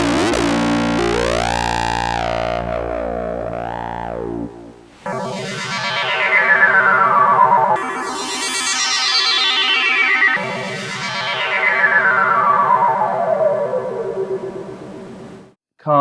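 A monophonic Korg synthesizer lead patch with effects, gliding and sweeping tones with echoing, distorted swirls that fall in long descending sweeps, loud and alone without speech.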